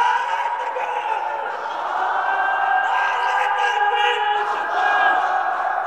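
A large outdoor crowd at an Islamic sermon gathering chants the takbir together, a sustained, massed roar of many voices that stays loud and continuous with slight swells.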